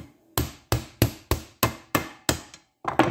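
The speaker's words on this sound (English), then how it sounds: "And we can gently tap on this." A hammer gently taps a part on a 1976 Dodge D100 truck rear axle during an axle swap: eight sharp, close metallic knocks at a steady, roughly half-second rhythm, each ringing briefly before the next.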